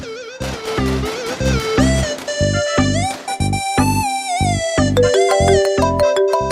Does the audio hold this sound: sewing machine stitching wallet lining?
no